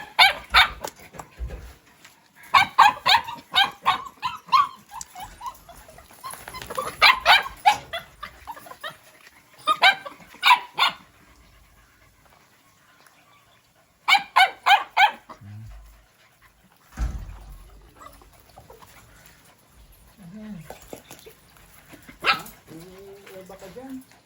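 A dog barks in repeated bursts and short volleys while food is being handed out, with pauses between barks and some whimpering and yipping, close and loud, with people talking in between.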